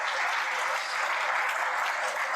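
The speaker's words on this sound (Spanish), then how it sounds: "Le damos un aplauso fuerte a nuestro Padre" A church congregation at an evangelism seminar gives loud, sustained applause, a steady dense roar of many hands clapping throughout with no gaps.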